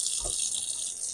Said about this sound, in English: So next step, we are gonna wash rice. And keep washing until you see water clear like this.